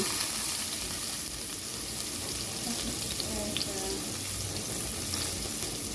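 Garlic sizzles in hot cooking oil at the start of a sauté of pechay with shrimp. A steady, dense crackle holds close and even the whole way through, with no talk.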